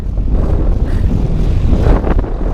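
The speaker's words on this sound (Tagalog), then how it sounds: "Ang lakas ng hangin." Strong wind roars steadily across the microphone, a loud continuous buffeting rumble with gusts swelling and easing, no voices.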